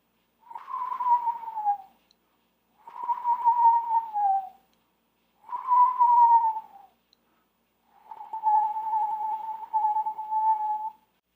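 A person whistles with the back of the tongue rolled, imitating a bird call: four clear, steady whistled phrases, each around a second or two long with short gaps, the last one longer, heard alone and close.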